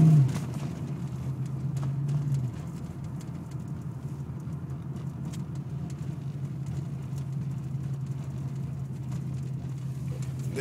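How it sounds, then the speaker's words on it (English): A little Ford Mustang drives over a thin sheet of ice on a snowy road, giving a steady low engine drone and road rumble heard from inside the car, slightly louder for the first couple of seconds. "This is a thin sheet of ice that I am driving on."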